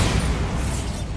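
A Bombarda spell explosion in the Hogwarts Legacy video game, heard as one dense, sustained rumbling boom with heavy low end that holds steady, loud and close, with no speech.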